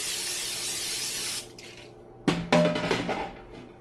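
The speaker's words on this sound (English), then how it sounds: "Give it a good spray with some Pam." A steady hiss of cooking oil spray onto a pan for over a second, then the pan clatters and scrapes close by.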